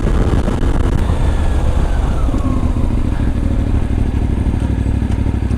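A CF Moto 450MT motorcycle rides along with a loud, continuous engine drone and buffeting wind, the engine note shifting slightly as gears change through a short gearbox.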